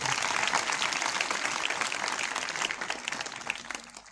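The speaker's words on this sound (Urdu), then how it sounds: "بھرپور تالیاں" An audience applauds the sisters who run a girls' high school hostel, at an Eid gathering, with dense sustained clapping that slowly fades over four seconds.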